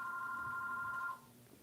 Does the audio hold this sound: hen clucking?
no